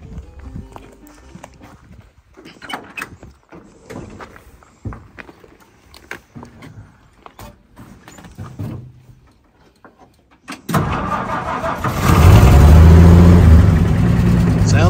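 A 1965 truck with an original patina finish fires up after some quieter movement and shuffling, its engine catching and settling into a loud, steady idle that dominates the last few seconds.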